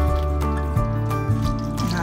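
A thick, creamy sauce for tuna noodle casserole being stirred as milk is added, with wet squishing and sloshing under a talking voice.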